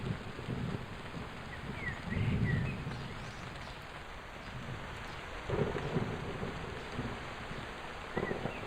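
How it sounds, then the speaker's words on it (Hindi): Heavy rain pours down in a jungle, a constant dense hiss of rainfall with deep low rumbles of thunder rolling in and out, no voices. "जंगल में काफी जोरदार बारिश शुरू हो जाती है।"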